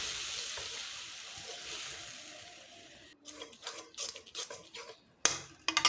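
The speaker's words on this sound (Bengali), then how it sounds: "এখন আমি পেঁয়াজের ভিতরে হলুদ, মরিচ, রসুন বাটা, জিরা বাটা সবগুলো মশলা একসঙ্গে দিয়ে পানি দিয়ে কষিয়ে নেব।" Onion frying with a paste of turmeric, chili, garlic and cumin, with water added; a steady hiss gives way to bursts of sizzling and scraping stirs in a pan, close and without talk.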